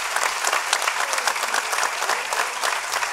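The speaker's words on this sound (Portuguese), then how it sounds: "Um forte aplauso para eles." Dense, steady applause from a carnival audience at a Bailinho performance in Angra, many hands clapping continuously with no voices standing out.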